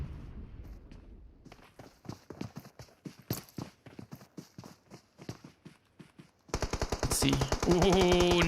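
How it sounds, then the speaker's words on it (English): Gunfire in PUBG Mobile during a championship match: a long run of sharp, rapid shots in uneven bursts, then a dense, louder stretch of overlapping fire and game effects near the end. "puts in a quick few shots."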